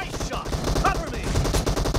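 Rapid bursts of automatic gunfire in a team deathmatch shooter game, dense and continuous, mixed with game effects and a voice in the background.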